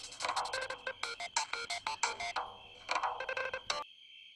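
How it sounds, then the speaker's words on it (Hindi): A mobile phone ringtone plays loudly and close, a bright repeating electronic melody with rhythmic pulses that cuts off abruptly near the end. "देखना किसका फोन है"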